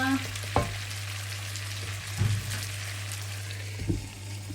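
Spicy garlic seafood simmers in a covered pan, a steady low bubbling sizzle with a constant hum and a few sharp clinks or pops.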